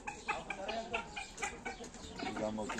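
Farmyard rooster and other chickens clucking and calling in short repeated bursts close by, mixed with someone speaking now and then.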